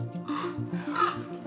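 A raven calling, a few short throaty croaks in quick succession, moderately close and fairly quiet with no talk over it.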